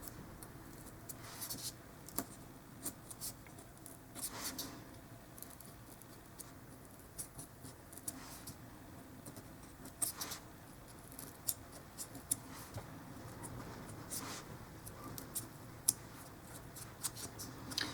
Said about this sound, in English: you're going to take the bamboo skewer again and kind of trace those lines you just cut